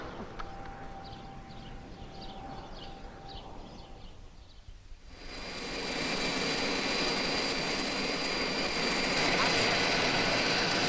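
An airplane engine in an old 16mm film soundtrack, a steady roar that swells louder halfway through and holds as a continuous drone to the end, with no talk.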